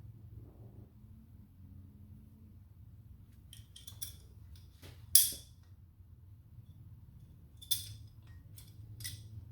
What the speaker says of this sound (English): So you can see I'm not cutting that much off it